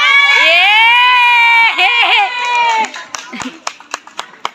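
Following a sustained voice, a small audience at a women's sangeet celebration in Rajasthan claps in a short, fairly regular burst that trails off.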